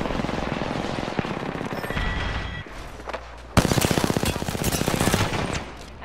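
Rapid automatic gunfire in a multiplayer shooter game, loud sustained bursts that pause briefly and then resume even denser, with scattered single shots and no talking over it.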